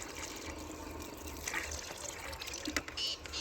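Water poured onto plants outdoors in a village garden, a faint steady trickle and splash with a few brief drips, quiet and continuous throughout.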